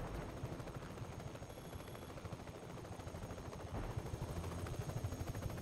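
A helicopter in the video game Just Cause 3 gives a steady, fairly faint rotor chop with dense rhythmic thumping throughout, growing slightly louder toward the end, with no speech.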